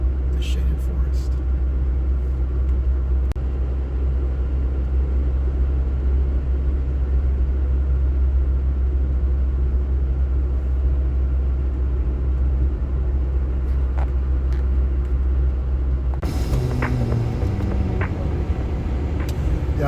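A car with a recently restored engine drives through a shaded forest, giving a steady loud low rumble throughout with a shift in road noise near the end; a voice talks over it.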